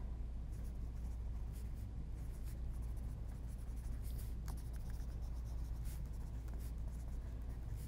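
A pen scratches steadily across paper in a mixed media journal, producing a continuous, faint, close writing sound with small strokes and no speech.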